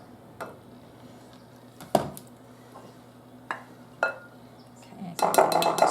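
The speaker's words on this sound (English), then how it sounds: "I'm just going to take my spoon just to scrape off the sides" A spoon scrapes the sides of a mixing bowl of peanut butter cookie filling made with powdered sugar. A few sparse clinks come first, then a denser burst of close scraping.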